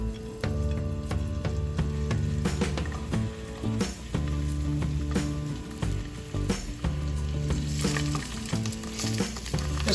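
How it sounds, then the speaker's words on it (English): Sausages frying in a pan for a rapini and sausage dish, a steady close sizzle with stirring and scraping that runs for the whole stretch. "We're just gonna add the sausages now."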